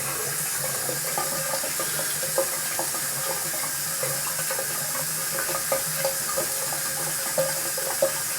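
Tap water runs steadily into a sink in a bathroom during a shave, a continuous close splashing stream with small irregular drips and gurgles and no talking.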